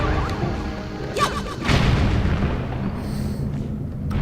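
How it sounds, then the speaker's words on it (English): An explosion goes off in The Legend of Zelda: The Wind Waker on Dragon Roost Island, a muffled low boom with a crackling burst, followed by a second thump and rumbling debris, heard alone without talk. "I like the explosion animation."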